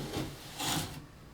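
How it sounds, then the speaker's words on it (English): A V-notch trowel scrapes thin-set mortar across a wall in two broad, rasping strokes, close and fairly quiet, with no one talking. "my V-notch trowel and the thin set, and I'm going to just take and put this on the wall"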